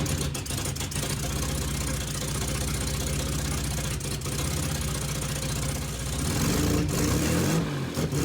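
A car engine runs steadily at idle after a spark plug change, a continuous low mechanical hum with slight unevenness, then revs up briefly near the end, close and loud with no talking.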